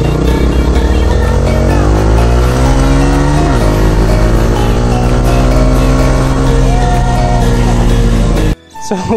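A scooter and a motorbike race side by side on a road, with a loud, close engine roar that climbs in pitch, dips briefly, then climbs again before cutting off abruptly near the end.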